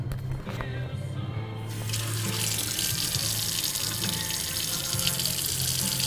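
Tap water running hard into a sink to drown a hard disk drive, starting with a quieter gurgle and then a loud, steady gush that continues to the end.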